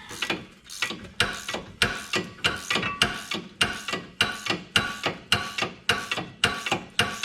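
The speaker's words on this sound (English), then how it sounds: "Make sure you hit your ratchet on everything." A ratchet wrench clicks in quick, loud, close bursts, about twenty sharp ratcheting strokes in a steady rhythm during rear wheel bearing work on a 2017 Buick LaCrosse, with no talking.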